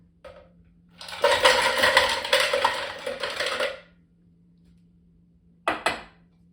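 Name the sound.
ice cubes poured into a blender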